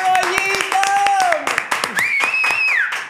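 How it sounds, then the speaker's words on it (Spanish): Scattered clapping breaks out for Goyito, sharp claps spaced unevenly beneath lively, overlapping talking voices. "Un aplauso para"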